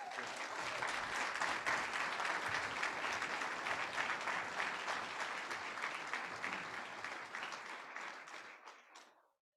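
A crowd at a wine pull event applauds, dense steady clapping that fills the room and then tapers off quickly near the end, with a few voices mixed in.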